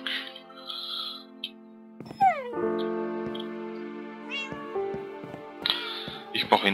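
A Minecraft cat meows repeatedly in the game, with several distinct drawn-out mews and a caterwauling cry, loud and close, while someone talks over parts of it.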